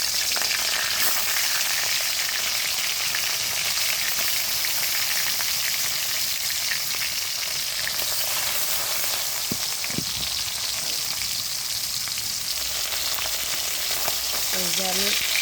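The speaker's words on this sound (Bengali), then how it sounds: "এই আমার নুন হলুদ মাখা মাছ এখানে বসিয়ে দিচ্ছি। তেলের মধ্যে দিয়ে দিলাম।" Fish coated in salt and turmeric fries in hot oil with a loud, continuous crackling sizzle, and a couple of brief utensil knocks come near the end.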